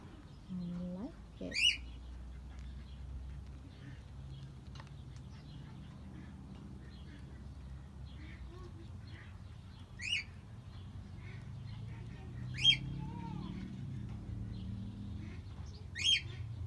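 A rainbow parrot in New Zealand lets out several sharp, high calls spaced several seconds apart over a low outdoor rumble, moderately close but fairly quiet.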